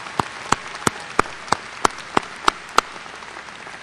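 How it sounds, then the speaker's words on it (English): Slow, evenly spaced single claps at a 2004 graduation ceremony, about nine sharp hand claps in a steady rhythm, fairly close and distinct over a quiet room. "Give them a round of applause."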